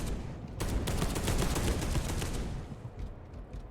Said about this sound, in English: They just shoot rockets at us?